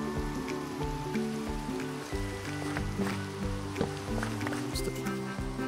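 Steady rain falls in the video game Minecraft, a constant close hiss of drops running under game music with no pauses.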